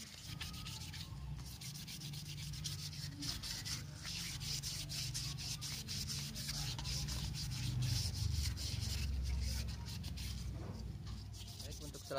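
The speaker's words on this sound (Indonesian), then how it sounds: "ketika menggosok dengan amplas grid 1000 yang dibasahi dengan air ini dengan cara ditekan" Steady wet sanding of a machete handle with water-soaked 1000 grit sandpaper, a soft rhythmic scraping rub repeated back and forth at close range, with no talking.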